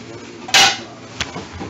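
A metal steamer ring set into a cooking pot for steaming crab with Corona beer gives one sharp, loud clank, followed by a softer small tap a moment later.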